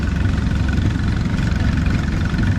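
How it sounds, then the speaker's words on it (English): A 1932 Farmall Regular tractor engine runs at an engine show parade, a loud, close, steady low chugging rumble with even rhythmic pulses throughout and no voices. "1932 Farmall Regular."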